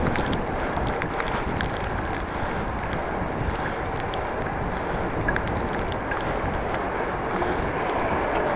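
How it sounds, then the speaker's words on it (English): Steady wind buffeting the microphone during a bike ride through city streets, a continuous loud broadband rush with low rumble that never lets up. "Somehow wind is picking up too."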